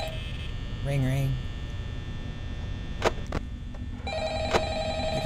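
Telephone ringing in Five Nights at Freddy's, repeated electronic ring tones over a constant hum, with a short stretch of a voice near the start.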